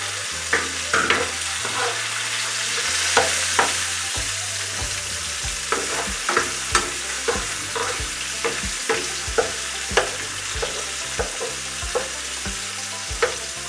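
Garlic frying in a pan sizzles steadily, broken by regular sharp taps and scrapes of a spatula on the metal, over a quiet looping music bed.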